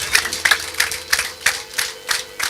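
An audience claps hands in a steady rhythm of distinct bursts, about four per second, fairly close and loud with no other sound.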